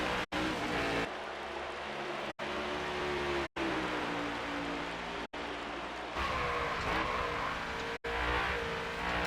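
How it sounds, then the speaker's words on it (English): Race car engine on a track at New Hampshire, roaring loud and steady as the driver shifts between fourth and fifth gear, with brief sharp drops in the engine note at each upshift and downshift. "As you hear the upshifts and downshifts, that's me going from 4th to 5th and from 5th to 4th"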